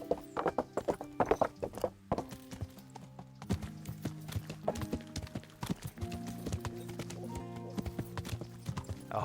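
Horse hooves clip-clopping in a steady gallop in the video game Kingdom Come: Deliverance, with brief whinnies and musical tones layered underneath, fairly loud and up close.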